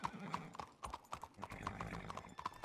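Horses' hooves clip-clopping in a video game, a quick near string of hollow hoof knocks with occasional faint whinnies, quiet overall.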